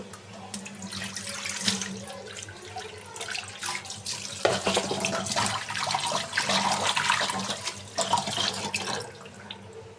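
Kitchen tap running while small fish and potatoes are washed, a continuous splashing stream with swells and dips as hands move the food under the water, fairly close and steady.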